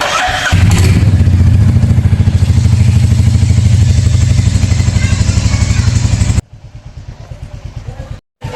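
A Royal Enfield Hunter 350 motorcycle in neutral cranks and sputters loudly with rapid rhythmic chugging for several seconds, then cuts out without starting, followed by a few weaker attempts.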